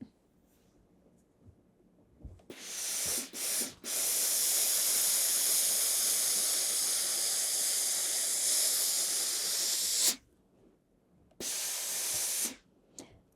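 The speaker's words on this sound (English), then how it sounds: "iron from the bottom up" A steam iron hisses in long loud bursts while pressing a skirt seam, with a sustained blast of several seconds, a short gap, then another burst, broken by quiet pauses.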